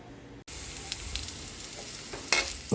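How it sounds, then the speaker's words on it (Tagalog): Garlic and onion hit a hot pan for sautéing, breaking into a loud, constant sizzle after a brief quiet start, with occasional clinks and stirring scrapes. "Magkigisa na po tayo."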